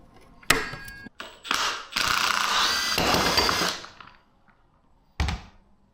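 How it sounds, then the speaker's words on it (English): Ratchet wrench tightening the wheel bolts on a dirt bike, heard as a quick metallic clack, a few seconds of steady ratcheting clicks, then a final short burst of clicks, close up with no talking. "we can just tighten the bolts down in there"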